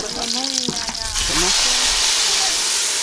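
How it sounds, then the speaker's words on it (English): Garlic, onions and tomatoes sizzle and hiss loudly in a hot pan in rural Rwanda, the frying swelling after a second; a voice talks briefly over it at the start. "they're just frying up a little bit of garlic, onions, and tomatoes"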